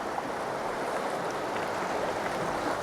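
Ocean surf churns and rushes steadily, a broad continuous wash of breaking water heard close with no pauses, no voices and no distinct individual crash.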